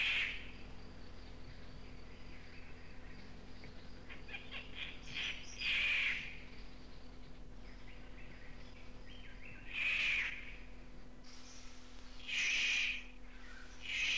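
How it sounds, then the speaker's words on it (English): Victoria's riflebird, the northern race of the paradise riflebird, calling in a North Queensland tropical rainforest: a few loud, harsh rasping bursts spaced several seconds apart over a quiet steady background hum. "Victoria's rifle bird, northern race of the paradise rifle bird."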